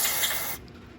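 A short aerosol spray aimed into a lawn mower engine during a service of a Murray mower with a Briggs & Stratton engine, a close hissing burst lasting about half a second before cutting off to quiet.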